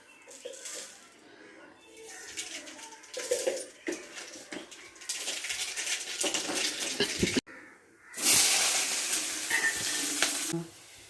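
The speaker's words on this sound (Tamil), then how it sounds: "எண்ணெய் ஊற்றிக்கிட்டாச்சு இப்போ வந்து கடுகு சேர்த்துக்கணும்" Mustard seeds hit hot oil for egg rice, crackling and sputtering in bursts that swell into loud, dense sizzling toward the end, with softer clinks and stirring before it.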